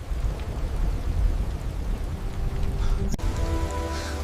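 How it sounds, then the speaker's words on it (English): A big rainstorm pours heavily and steadily, a dense rushing wash of rain with low rumbling, close and loud throughout, with a brief sharp knock near the end. "It's a big storm"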